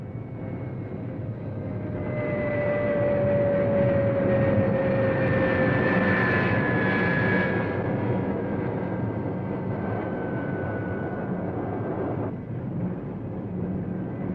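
A McDonnell Douglas F-4 Phantom jet at Da Nang roars steadily and loudly for the full stretch, its engine drone rising slightly in the middle with a faint whining sweep, no speech over it.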